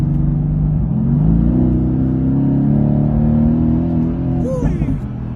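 A Porsche Panamera drives nearby with a steady low engine drone and rising tone, heard from a following vehicle under continuous road noise.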